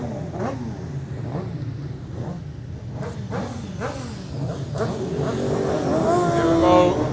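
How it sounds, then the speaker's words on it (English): Superbike racing motorcycles pull out onto the track at the Cookstown 100 road races, engines droning and revving louder as they pass, under a commentator's voice. "Okay, so the Superbikes have made their way out onto the track."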